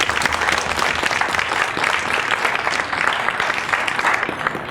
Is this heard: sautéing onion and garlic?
no